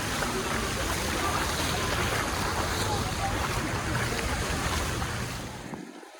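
Sea waves washing onto Alcudia beach, a steady, full, close rush of surf with wind buffeting the microphone, fading away in the last second.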